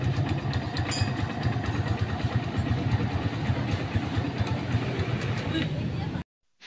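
A Barako 175 motorcycle engine idles steadily and close after starting, a loud continuous rhythmic chug that cuts off abruptly near the end.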